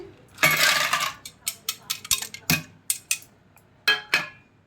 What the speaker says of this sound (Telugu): ఇందులోని ఐస్ క్యూబ్స్ వేద్దామండి.